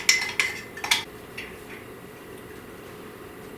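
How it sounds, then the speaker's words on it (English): Spoon clinking and scraping inside a mug while stirring a French toast mixture of liquid ingredients and a pinch of salt, several quick bright taps early on, then quiet. "Just going to take my spoon and I'm going to mix that all up in here."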